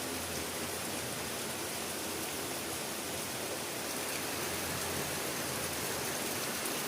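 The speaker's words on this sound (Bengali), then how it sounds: "কিন্তু হঠাৎ করে এত জোরে বৃষ্টি এসেছে" Heavy rain pours outdoors in a steady, dense broadband wash that holds evenly from start to finish, with no voices over it.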